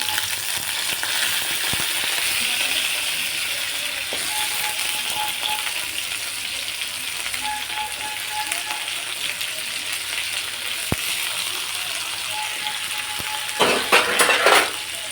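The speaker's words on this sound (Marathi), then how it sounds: "हे चांगलं तळून घेऊ बटाटे" Continuous sizzling of potatoes frying in oil with cumin and garlic in a kadhai, with occasional clinks and scraping stirs, louder rattling near the end.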